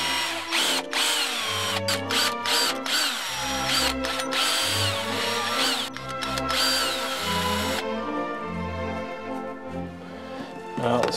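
A power drill enlarges screw holes in a DIY Halloween prop build, whirring in repeated short bursts that rise and stop, close and loud, with a few sharp gaps between runs.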